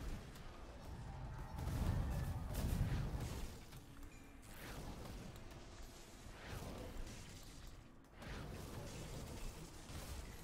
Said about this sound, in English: Everything's explosions with this character now, and it's pretty great. It's explosions and lasers.